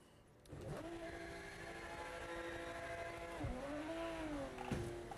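A race car in the Project Motor Racing game revs through its gears while warming its rear tyres, with the engine tone climbing and dipping over a steady drone.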